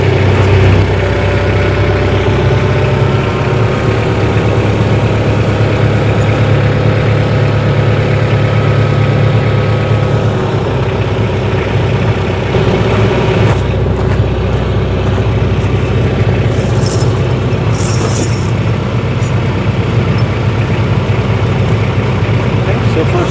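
A tractor engine rumbles steadily while pewag snow chains are fitted, a low idling drone that drops slightly in pitch partway through as the tractor creeps forward, with speech over it.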